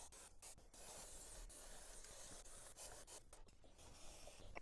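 Continuous rubbing and scrubbing on a Kawasaki Vulcan S 650 motorcycle chain coated in sprayed chain cleaner, a steady close-up rasping scour with brief pauses and no talking.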